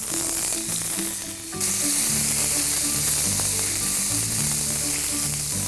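Whole spices with ginger sizzle and crackle steadily in hot oil for a dum aloo dish, a bright continuous hiss that grows louder partway through, with music playing underneath.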